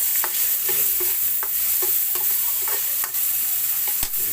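Chicken with tomatoes, onions and pechay simmers and sizzles steadily in a pan, with repeated sharp clicks and scrapes of a utensil stirring close by; no voices.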